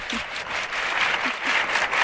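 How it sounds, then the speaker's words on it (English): A tech forum audience gives a round of applause, a steady, dense wash of clapping that holds evenly for about two seconds with no talk over it. "Now everybody give a massive round of applause."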